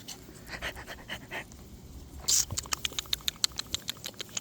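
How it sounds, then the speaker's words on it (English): A dachshund mix puppy pants close by in quick, rhythmic breaths, joined by light pattering taps and scratches that speed into a steady series of sharp little clicks. "Are you a fat little dachshund boy, huh?"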